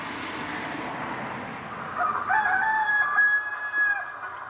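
Roosters in a poultry yard across the street crow at midday, loud but slightly distant against a steady outdoor hum. One drawn-out crow rises clearly in the second half.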